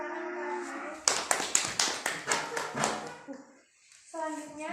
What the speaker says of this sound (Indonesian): Beri tepuk tangan untuk anak.